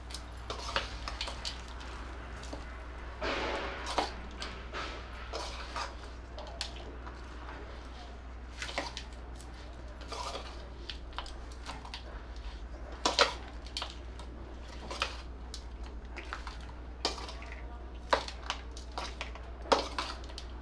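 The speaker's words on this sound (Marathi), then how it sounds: "आता हे व्यवस्थित मिक्स करून घ्यायचं" Sesame rice being stirred together with roasted sesame seeds in a pan, a steady run of spoon scrapes and clinks against the metal over a constant low hum, with no talk.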